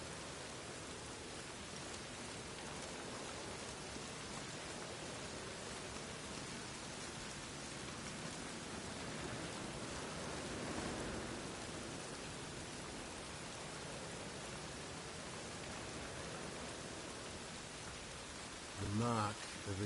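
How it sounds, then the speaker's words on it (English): Steady, soft rain hisses evenly in the video game The Witcher 3, a continuous wash of falling drops with no breaks, faint and diffuse, with a brief low thump near the end. "It's raining, of course it's going to be damp."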